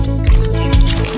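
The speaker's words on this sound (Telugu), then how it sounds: "ఇప్పుడు కొంచెం నీళ్ళు చల్లి నీళ్ళు కొద్దిగా వేసుకోవాలా" Wet squishing and dripping as water is sprinkled into an egg-and-flour fishing bait dough being kneaded by the river, with a few soft, close squelches over a steady background hum.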